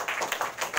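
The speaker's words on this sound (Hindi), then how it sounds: "नेहा के लिए जोरदार सा ताली बजाओ।" Children at a free school gathering in Jiyapur, Azamgarh, Uttar Pradesh clap together for a girl, a short burst of quick, overlapping handclaps in a room.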